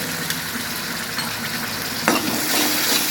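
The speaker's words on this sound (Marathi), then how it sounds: "ते पण छान असं भाजून घ्यायचे मिरचीमध्ये" A paste of ginger, garlic and coriander roasts with chillies in a hot pan for a guava vegetable dish, giving a steady close sizzle with stirring scrapes and a slight surge near the end.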